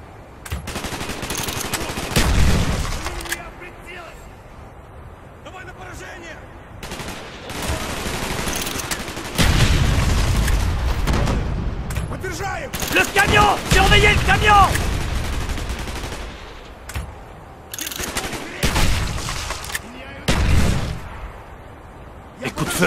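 Bursts of machine-gun fire and volleys of shots rattle through a Call of Duty Black Ops firefight, loud and repeated in intermittent clusters, with soldiers shouting in French between the bursts.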